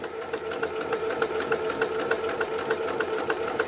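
Sewing machine stitching quilt block pieces for an Ohio Star block, a steady rapid mechanical chatter with an even rhythmic pulse, running alone and close by.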